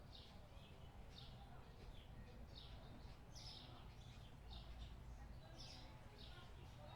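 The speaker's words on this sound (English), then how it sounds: "It's quite relaxing hearing the birds chirp," Birds chirp outside a store in the video game Supermarket Simulator, with short bright tweets repeating every half second or so over a steady low ambient hum, moderately faint and continuous.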